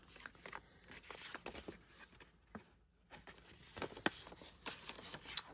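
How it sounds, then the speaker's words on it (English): Paper envelope folded by hand, close up, with crisp rustles and sharp creasing crackles in quick bursts, a brief pause midway, then more crinkling. No one speaks. "And then we just fold the top part of the envelope again at that 1/4 to 1/2 inch fold."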